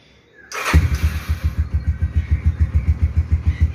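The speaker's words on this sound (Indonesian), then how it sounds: "Kita angetin yang Scorpio Z dulu." A Yamaha Scorpio Z motorcycle cold-starts in the morning with a sharp starter whir and catch, then settles into a close, loud idle of rapid, regular thumping exhaust beats that carries on steadily while warming up.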